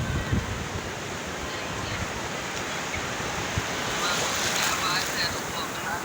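Rough sea surf crashing steadily onto a sandy shore with strong wind buffeting the microphone, a continuous broadband roar that swells louder toward the end, heard alone without talk.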